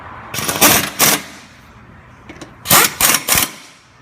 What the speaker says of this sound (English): we have an impact gun with a 14mm socket